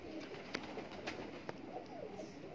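A Kamangar pigeon coos softly in a rough, rolling murmur, with a few short sharp knocks among faint background noise.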